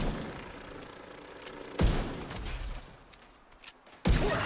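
Two sharp, loud gunshots from a light machine gun with heavy recoil in The Division 2, spaced about two seconds apart, each a hard crack over a low, rumbling game ambience.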